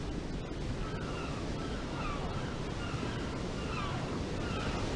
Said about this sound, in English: The ocean, my home!